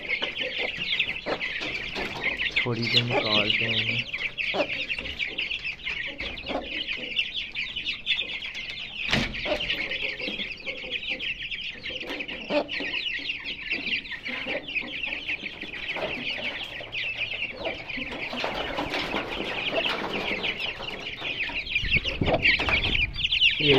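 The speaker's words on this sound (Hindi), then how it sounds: "चूजे जो है शोर मचा रहे हैं" Bantam chicks and chickens, including golden cochin bantams, cluck and peep nonstop in a coop, close and busy, while someone speaks briefly over them.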